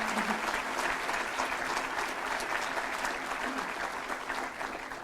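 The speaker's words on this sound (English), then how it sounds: "If we can give her a round of applause." Sustained applause from a seated audience at a medical school white coat ceremony, dense and steady throughout at moderate volume, with no clear talk over it.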